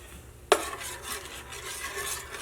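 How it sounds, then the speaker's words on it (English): No-bake peanut butter oatmeal cookie mixture with vanilla being stirred, opening with a sharp utensil clack against the bowl, then soft, steady scraping and mixing strokes at close range. "And then we'll mix that real well"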